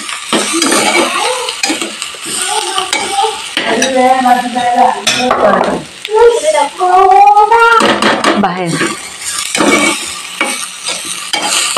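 Onions with turmeric and asafoetida frying in a pan and being stirred, a loud close sizzle with spoon scrapes and clinks against the metal, while someone talks over it at times.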